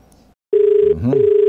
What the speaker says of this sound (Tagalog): napapakinggan yung telepono ngayon, nagre-ring